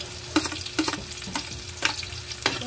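Onion sautés in a pan for pork liver, a low background sizzle punctuated by several sharp spatula scrapes and taps at irregular intervals.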